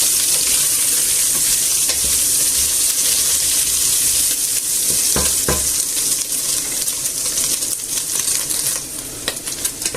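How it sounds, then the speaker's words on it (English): Pork pieces sizzle steadily in a hot pan while being browned all round, a dense continuous frying hiss with a few soft stirring clicks, close and loud throughout, easing slightly near the end. "I'll add in the pork. And I'll fry it until it's browned all round."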